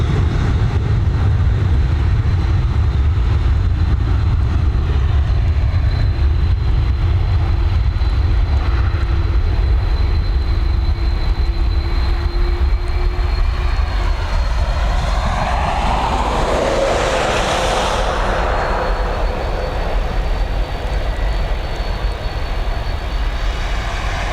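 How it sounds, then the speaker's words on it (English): A Boeing 737 departing Dublin Airport on runway 10R for Billund fills the scene with a sustained distant jet roar that swells to a louder rumbling peak as it climbs away. "Let's get back to this 737. She's heading over to Billund."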